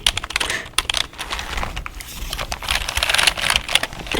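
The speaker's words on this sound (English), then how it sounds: "This is actually the first keyboard I used." Rapid, crisp typing on an old computer keyboard in an ASMR setting, keys clacking close and continuously in uneven bursts with no talking.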